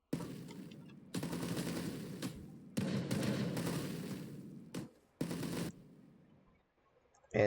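Machine gun towers in a war strategy game fire in rapid bursts of one to two seconds, broken by short pauses. The bursts are close and fairly loud, and one abrupt thud comes at the end.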